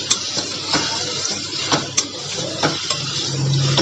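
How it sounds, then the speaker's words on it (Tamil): Potato frying in oil with chili powder, a soft sizzle under repeated clinks and scrapes of a spoon against the pan, close, with a louder hiss rising at the end. "எண்ணெயில் நல்லா வறுக்கலாம்."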